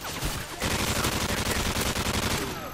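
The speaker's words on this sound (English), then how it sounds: "I am like hardcore hip firing right now. I'm not even using my sights." Rapid, sustained automatic gunfire fired from the hip in Modern Warfare 3 multiplayer, a loud, dense burst of close shots that runs almost continuously after a brief opening shot.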